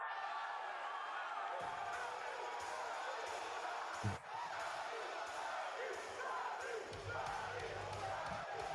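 A large wrestling crowd roars and cheers continuously through a loud entrance theme with pounding drums, the arena noise dense and steady, with a sharp thump near the middle.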